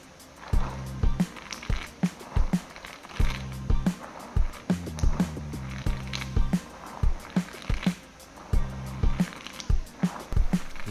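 Fried peanuts are stirred in a frying pan, rattling and clattering like small pebbles in quick repeated bursts, close and fairly loud with steady rhythmic scraping and clicking.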